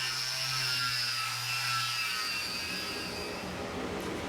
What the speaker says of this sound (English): I had to spend a good amount of time wire wheeling the rust off.